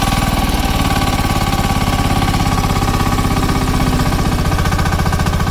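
A Simplemaq XN10 hydraulic power unit engine runs steadily and loudly up close with a fast, even, hammering pulse and no change in pace.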